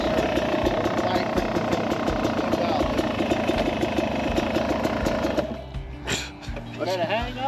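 A motorcycle engine idles and runs with a steady, close rumble, then briefly drops away near the end.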